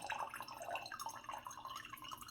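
Water poured quickly onto a coffee scale, a steady splashing, trickling stream with dripping texture, close and fairly soft, continuous throughout without talk.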